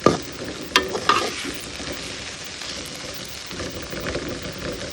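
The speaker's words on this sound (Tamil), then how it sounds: "பாருங்கள், இதில் நம்ம ஆற வச்ச சாதத்தை போட்டு கலரிடலாம்" Cooled cooked rice stirred into a bell pepper masala in a hot pan, with a steady sizzle, a few sharp scraping knocks near the start and soft stirring rustles throughout.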